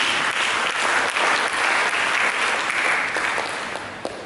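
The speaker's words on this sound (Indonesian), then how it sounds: "Berikan tepuk tangan." A church congregation applauds during a sermon, a dense, steady wash of many hands clapping at once that eases slightly toward the end.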